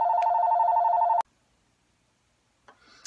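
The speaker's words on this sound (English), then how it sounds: "I'm sorry about that phone call." A telephone rings steadily and loudly for just over a second, then cuts off abruptly. Near the end a faint rustle follows in a quiet room.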